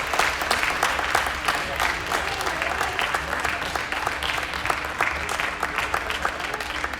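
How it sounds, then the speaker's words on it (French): A crowd applauds at a tennis tournament prize ceremony, loud dense clapping from many hands sustained evenly for several seconds with no talk. "Et donc on applaudit bien ton rapport."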